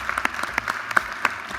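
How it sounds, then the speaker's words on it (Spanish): Scattered audience applause at a live event, a handful of distinct claps spaced irregularly over a faint room murmur, thin and brief rather than a full ovation. "vamos a volver a aplaudirlos de nuevo"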